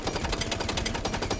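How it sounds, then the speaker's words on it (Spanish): Rapid automatic gunfire in Rainbow Six Siege, a continuous, evenly spaced burst of close, loud shots with no talk over it. "He disparado 24 balas, he dado las 24 balas"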